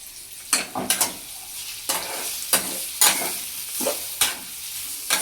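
Soybean chilli frying in a pan, with a steady sizzle broken by repeated loud scraping strokes of a spoon stirring it, close up and with no voices.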